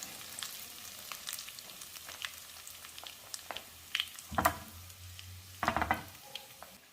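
Urad dal, dried chillies and curry leaves crackle in hot oil for a chutney tempering, giving a quiet, continuous sizzle with sharp spattering pops and two louder bursts of crackling toward the end.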